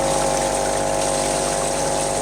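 Continuous water flow gushing through a PVC trommel syphon tube as it spills between chambers, a constant near rushing wash that holds steady throughout.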